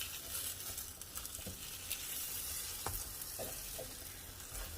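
A taco fries in a hot pan with a steady, close sizzle of oil, dotted with occasional sharper pops and crackles as it crisps, no talking.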